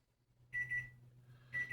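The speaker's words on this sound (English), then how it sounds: "And why is that alarm going off?" An alarm clock beeps in two short bursts with a pause between, fairly faint and alone over a low steady hum.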